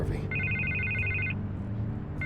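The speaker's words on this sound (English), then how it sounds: "I can't get the phone to stop ringing" Telephone ringing in the Batman: The Telltale Series video game, a single electronic ring burst lasting about a second with another starting at the end, clear over a low ambient background hum.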